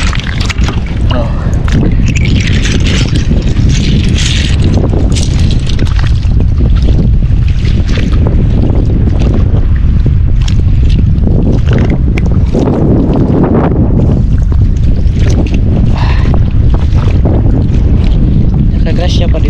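Strong wind roars steadily across the microphone while shells are gathered, with heavy low rumbling and buffeting, continuous and loud throughout, with faint voices underneath.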